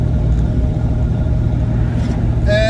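Land Rover Discovery II with a misfiring engine, steady low driveline and engine drone from inside the cab while driving, with a brief higher whine near the end and no talking.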